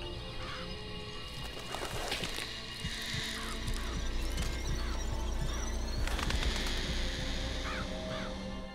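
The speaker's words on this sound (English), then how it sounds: "Press to summon murderous crows." Summoned murderous crows in BioShock Infinite caw repeatedly and raucously over a low hum, several harsh calls overlapping in bursts across a dense, busy game soundscape.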